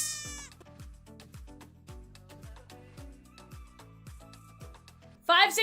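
A goat bleating sound effect plays as a rapid rhythmic series of about a dozen short bleats, followed by a sudden burst of loud talk at the end.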